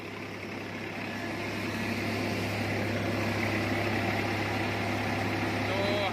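A tractor engine drives a Shree Ganesh wheat thresher at 540 PTO, a steady, close engine drone with a constant low hum that swells slightly and runs on without a break.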